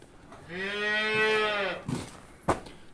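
A single clear cow moo lasting about a second and a half, followed by a couple of soft thuds in an otherwise quiet setting.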